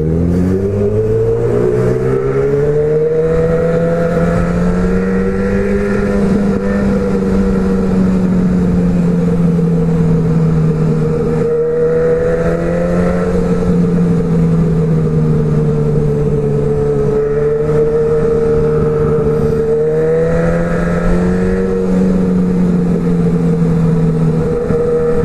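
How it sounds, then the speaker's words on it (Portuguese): A black Honda CB1000R motorcycle engine revs repeatedly, its loud, close roar rising and falling in several long sweeps with no talking. "Então vamos ouvir o ronco da bichinha."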